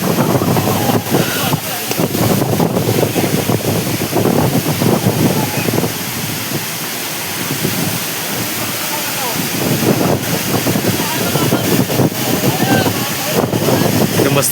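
Fine spray and rushing water at Savat Sada waterfall on a rainy-season trip, a loud broadband roar buffeted by wind gusts against the microphone, with voices talking intermittently over it.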